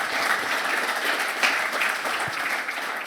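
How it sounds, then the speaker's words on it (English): An audience at a business conference gives the panelists a round of applause, a steady, even crowd clapping that holds at a constant level from start to finish. "Well, can we have a round of applause for all of our panelists today?"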